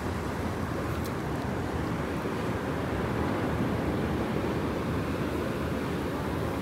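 Ocean waves rolling onto Ramapuram beach: a steady, dense roar of surf with some wind, continuous and fairly close throughout, with no voices.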